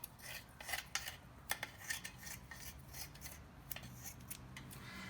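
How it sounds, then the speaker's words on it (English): Crisp scissor snips trim tape on a motorcycle muffler repeatedly at an uneven pace, close up, with light rustling and a soft background hum. "I'm gonna take the scissors and I'm gonna just trim this up a little bit."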